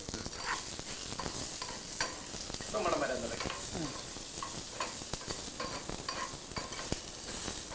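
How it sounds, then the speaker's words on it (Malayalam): Spices and curry leaves sizzle and crackle steadily in hot oil in a clay pot, with occasional stirring scrapes, close and fairly quiet. "നമുക്ക് വറുക്കാനുള്ളത് വറുത്തെടുക്കാം"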